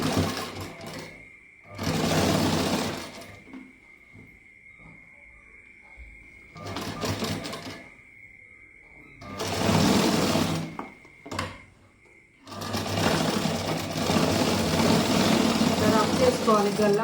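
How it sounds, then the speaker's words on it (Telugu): A sewing machine stitches fabric in loud bursts of steady motor whir lasting a second or two, with quiet pauses between them. A voice speaks during the gaps. "ఇప్పుడు కుట్టు వేసుకుంటాను."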